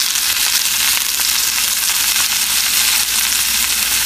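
Potatoes and onions seasoned with kosher salt and black pepper fry loudly in a Solidteknics AUSfonte cast iron sauteuse pan, giving a dense, steady sizzle that stays at full strength throughout.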